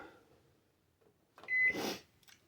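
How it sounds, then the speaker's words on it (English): An oven timer gives a single short electronic beep while being set in a home kitchen during Christmas dinner cooking, preceded by quiet handling noises and followed by a brief rustle. "I'm going to set the timer"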